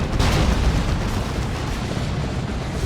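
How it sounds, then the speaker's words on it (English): Frag assault explosions from a Land Raider in Dawn of War 2 form a loud, continuous rumbling blast with a heavy burst at the start, then a sustained roar of detonations. "Here comes the Land Raider, letting loose that frag assault and leading the line."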